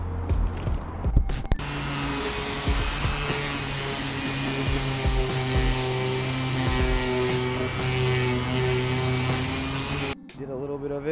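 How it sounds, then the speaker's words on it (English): A battery-powered sander works over a car bumper during wet sanding, giving a steady, close, continuous whir that runs unbroken and then cuts off near the end. "sanding it down."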